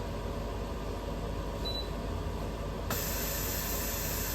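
A tortilla cooking in a pan just after being flipped gives a steady, soft hiss that runs unbroken and grows slightly brighter partway through, with no voices.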